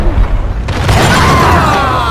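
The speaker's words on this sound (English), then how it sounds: "I just blew them up in one goddamn shot" An explosion goes off in the video game Max Payne, a loud close boom that rolls into a sustained rumbling blast with crackling debris.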